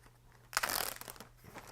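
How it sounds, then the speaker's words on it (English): Crinkly plastic packaging is handled near a skein of mohair yarn, a loud burst of crackling rustle lasting about a second, then trailing off into scattered soft crinkles over a faint steady hum. "Oh, excuse me for the noise. Crinkle, crinkle."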